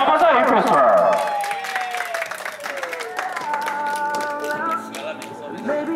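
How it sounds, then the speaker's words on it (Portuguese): Guests at a birthday party clap with scattered, fairly close applause while voices cheer and talk over it, the clapping thinning out as speech and loud vocal sounds continue. "Pode bater palmas aí, pessoal."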